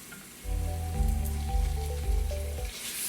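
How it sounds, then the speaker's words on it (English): A chopped Roma tomato hits a pan of softened onions and starts to sizzle, making a loud, steady frying hiss with a low bubbling rumble that swells and dips for a few seconds. "Sizzle, sizzle"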